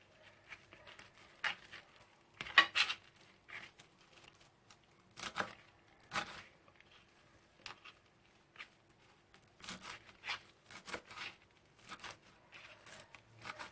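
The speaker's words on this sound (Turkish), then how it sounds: "Bir kısmını bu şekilde ince ince doğrayacağım." Quiet, irregular knife taps on a cutting board as parsley is finely chopped, short bursts with brief pauses between them, close by and fairly soft.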